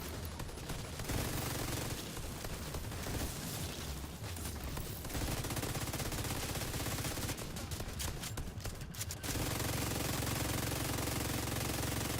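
Turret fire in The Division 2 video game: sustained bursts of rapid automatic gunfire that run for several seconds, break off, then resume, loud and harsh with brief lulls between volleys.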